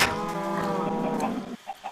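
Cattle lowing in a Minecraft survival game: a long, sustained synthetic moo with a stepped falling pitch fills most of the two seconds, followed by a short quieter pause with faint game noise.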